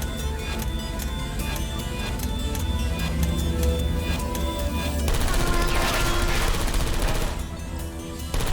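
Automated turrets in the Portal Stories: Mel video game fire in a dense, continuous rattling burst over a busy game soundtrack, rising louder and harsher midway before easing off near the end.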